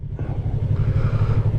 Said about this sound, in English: and now the bike is just coasting